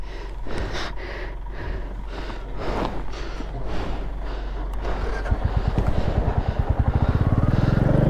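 A motorcycle is brought down a steep slope on a winter ride from Dawaipani to Darjeeling: heavy breathing and shuffling come first, then a close, rhythmic engine putter builds and steadies toward the end.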